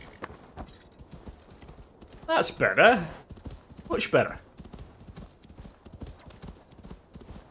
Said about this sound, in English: Now I can call my horse.